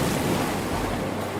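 Floodwater surging through a cartoon village, heard as a steady, loud wash of rushing water and surf-like noise with no talk, holding constant for the whole moment.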